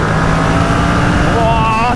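A Kawasaki ER6N motorcycle engine pulls hard and loud throughout, its tone climbing toward the end as it accelerates.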